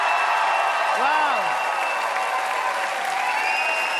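Steady, dense applause from a crowd fills the whole stretch, loud and continuous without pause.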